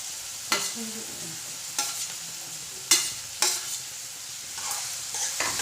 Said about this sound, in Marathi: कांदा पूर्णपणे डवळून घेतला जातो